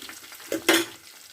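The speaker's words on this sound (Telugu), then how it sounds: "సన్నగా కోసి పెట్టుకుని ఇవి ఇప్పుడు ఎర్రగా ఏగనిద్దాం అన్నమాట" Thinly sliced onions and ginger frying in oil in a pan, browning while being stirred; a brief spoon scrape and a sharp burst of sizzle, close and fairly loud.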